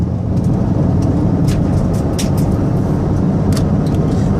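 A 2002 Dodge Grand Caravan SE mobility van with 148K miles drives through rush-hour traffic, its older wheelchair ramp adding light rattles to a steady, loud road rumble that runs the whole time with no talking.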